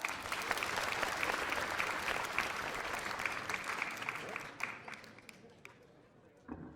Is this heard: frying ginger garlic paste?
no